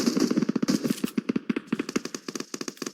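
Gunfire in the mobile battle-royale game PUBG Mobile comes in rapid automatic bursts. Dozens of sharp shots crackle in quick succession across three seconds, with no speech.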